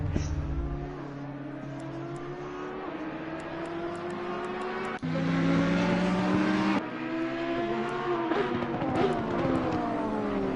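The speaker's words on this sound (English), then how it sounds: "I love hearing the cars pass them from the pit wall." Race cars in a racing video game roar past the pit wall at the Hungaroring, loud engine notes rising and falling as several cars sweep by one after another, with high revving and shifting pitch throughout.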